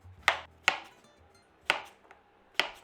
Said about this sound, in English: Slice your cucumber lengthwise and then cut it into crescents.